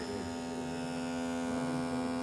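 A fischertechnik air compressor runs steadily while filling its air tank, giving a continuous faint motor hum and buzz at an even level with no pauses.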